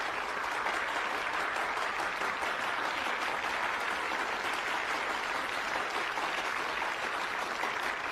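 Sustained applause for the debate tournament winners fills the whole stretch, a dense, even wash of many hands clapping at steady loudness with no voices over it.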